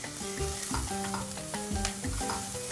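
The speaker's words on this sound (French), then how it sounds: "Et là, maintenant, nous ajoutons l'ail un peu. Voilà, nous roussissons bien ensemble." Garlic and thyme browning in a frying pan, with steady sizzling and frying broken by intermittent scraping stir strokes, close and fairly quiet.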